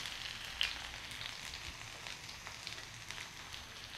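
Onions frying in a hot pan for a tawa kolija recipe, a soft, steady sizzle and crackle with faint stirring, quiet and continuous throughout.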